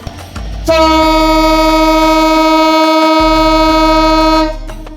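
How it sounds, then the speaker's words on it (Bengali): Kurigram Express hauled by a 3022-series locomotive runs through Akkelpur railway station on line two toward Dhaka, a loud sustained multi-tone horn blaring for several seconds over the rumble of rolling wagons. "তিন হাজার বাইশ সিরিজের লোকোমোটিভ নিয়ে কুড়িগ্রাম এক্সপ্রেস আক্কেলপুর রেল স্টেশনে দুই নম্বর লাইন দিয়ে থ্রু পাস করে চলে যাচ্ছে ঢাকা অভিমুখে"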